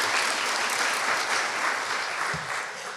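An audience at a county commissioner's swearing-in ceremony breaks into steady, dense applause that holds for about three seconds and eases slightly at the end.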